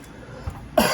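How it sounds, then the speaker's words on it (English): A single short cough bursts out near the end of a quiet moment in a workshop, close and sharp after faint background noise. "Then you excuse my coughing"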